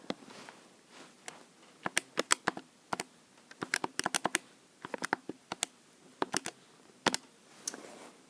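Numbers are keyed into a calculator as a quick, uneven series of crisp plastic button clicks. They come in short clustered bursts with small pauses and sound close and fairly quiet against a silent background.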